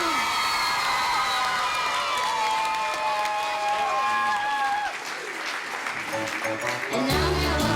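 An audience at a stage show claps steadily throughout, with cheers and children's shouts mixed into the applause. Sustained musical tones carry over the crowd before the clapping thins slightly near the end.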